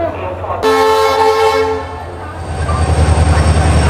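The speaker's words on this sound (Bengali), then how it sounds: "23 নম্বর প্ল্যাটফর্মে এখন ঢুকছে আমাদের ট্রেন চেন্নাই সেন্ট্রাল মেল" At Howrah station, the Chennai Central Mail passenger train sounds a loud, sustained horn blast as it enters the platform, followed by the heavy rumble and rhythmic clatter of the carriages rolling in nearby.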